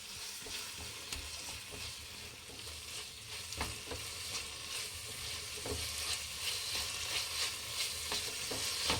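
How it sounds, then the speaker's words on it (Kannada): Tomatoes fry and get stirred in a pan while egg rice is being made. A steady sizzle runs throughout with scattered clicks and scrapes of a spoon, close and moderately loud, and nobody speaks. "ಟೊಮೊಟೊ ಹಾಕಿ ಚೆನ್ನಾಗಿ ಬೇಯಿಸ್ಬೇಕು"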